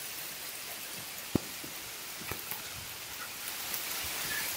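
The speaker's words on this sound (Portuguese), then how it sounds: "Porque tá chovendo demais." Heavy rain falling at a riverside inn by the Taquari River in Coxim, Mato Grosso do Sul, a steady soft hiss with a few faint drips and knocks scattered through it, no voices.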